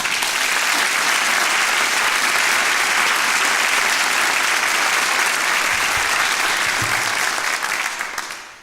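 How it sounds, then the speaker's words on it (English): A round of applause welcomes the mayor at a city's State of the City address: a dense, sustained crowd clapping that holds steady for several seconds, then fades. "Please join me in a round of applause in welcoming our mayor, Rhonda Pownell."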